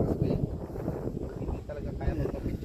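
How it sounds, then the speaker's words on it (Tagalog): Strong wind buffets the microphone on a hilltop at a rock-formation hiking area in Tanay, Rizal, a steady, loud roaring rush that runs through the whole stretch. "Malakas yung hangin."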